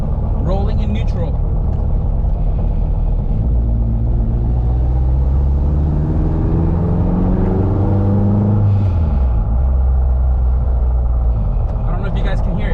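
A K20 turbo EF sedan rolls in neutral with a loud, steady drivetrain rumble and a tonal whine that falls and shifts as the car slows, heard from inside the cabin.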